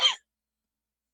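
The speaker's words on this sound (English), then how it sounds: "apologies for coughing. It's gonna happen quite a bit." A single short cough, close and abrupt, lasting a fraction of a second and then silence.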